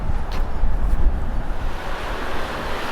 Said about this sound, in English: Here comes the wind as well again.